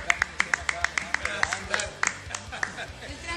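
Scattered clapping from a small group on a Spanish-language TV show set behind the scenes, sharp uneven claps over a few seconds with people talking and chattering underneath.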